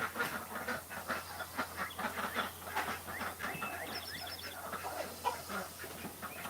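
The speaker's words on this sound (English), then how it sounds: "The sound of chickens." Chickens cluck and chatter in a dense, continuous flock noise, many overlapping short calls at moderate distance with a steady low hum beneath.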